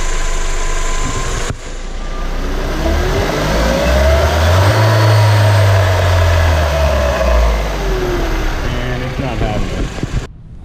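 A 1999 Mercedes SLK 230 engine idles, then revs up in one long sweep and falls back, loud and close, before settling near idle as the engine is shut off.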